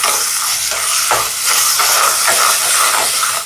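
Onions with ginger garlic paste sautéing in a pan for an Easter Sunday lunch, a loud steady sizzle and hiss with faint stirring scrapes, continuous and close, no voices.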